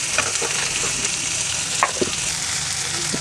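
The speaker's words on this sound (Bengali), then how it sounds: "পেঁয়াজটাকে লাল করে ভেজে নেব।" Chopped onions fry loudly in a pan with salt, a close, continuous hiss and sizzle punctuated by soft spatula scrapes and small pops.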